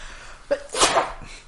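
A single sharp human sneeze, close and loud, rising suddenly and fading within about a second, with no talk around it.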